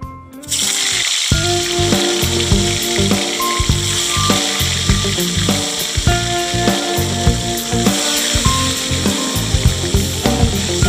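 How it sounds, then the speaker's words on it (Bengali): Pieces of katla fish fry in hot oil in a wok with a loud, continuous crackling sizzle, beginning abruptly as the fish goes in and popping steadily throughout. "মাছটা এবার কড়াইতে ছেড়ে দেব"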